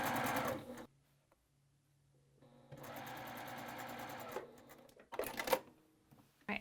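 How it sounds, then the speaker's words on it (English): A sewing machine stitches quilt binding at a quarter-inch seam, running in two bursts of steady mechanical whirring separated by a quiet pause, close and clear, with a short final run. "send this through the machine at a 1/4 of an inch seam allowance"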